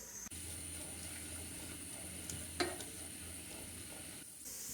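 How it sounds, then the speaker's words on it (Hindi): Two medium onions fry in oil alongside bay leaf, black cardamom and cloves for degi balti gosht, a quiet continuous sizzle with a brief clatter of stirring midway and no talking. "प्याज को हम गोल्डन कलर आने तक फ्राई करेंगे।"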